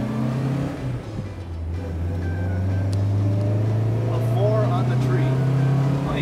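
A compact classic car pulls away for a run around the block, its engine humming close and loud, rising steadily in pitch as it accelerates, with faint voices in the background.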